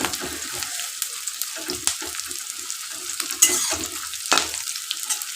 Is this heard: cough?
no